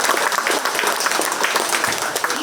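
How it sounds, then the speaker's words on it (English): Audience at a 4-H sheep show at the Shelby County Fair claps steadily and loudly. The dense, even applause holds without a break. "just make sure you guys give a hand to the people running the show today and for your fair queens and everybody up here"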